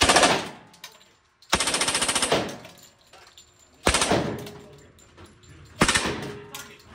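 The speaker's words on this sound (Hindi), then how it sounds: "So next is the air rifle. अब आ गई राइफल की बारी।" Rapid bursts of machine-gun-like firing at a real-life shooting range, with four loud, close volleys separated by short pauses. Some voices can be heard.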